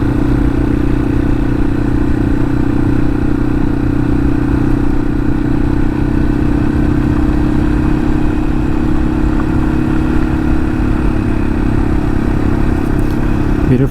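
Yamaha XT 250 motorcycle ridden on a road in Michigan's Upper Peninsula, its engine a loud, steady drone throughout with constant wind rush and no talking.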